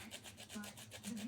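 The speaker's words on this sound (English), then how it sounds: "Then I'll grate my lemon crust or zest." Lemon zest grated for cinnamon mandazi dough, quiet rhythmic rasping strokes repeating close up about every fifth of a second, faint and with no talking.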